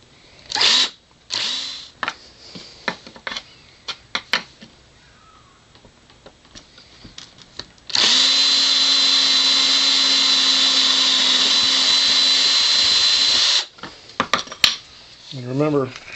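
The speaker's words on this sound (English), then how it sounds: "when you're drilling the holes out, to drill from the inside to the outside" A power drill fitted with a 7/64 inch bit bores holes in metal heat sinks, a loud steady whine running for about six seconds after scattered clicks and handling noises.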